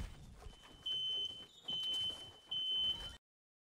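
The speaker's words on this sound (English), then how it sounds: "This fire alarm goes off one more time." A household smoke or fire alarm sounds three loud, sustained high-pitched beeps in a steady on-off rhythm, each about half a second long, over faint background game noise.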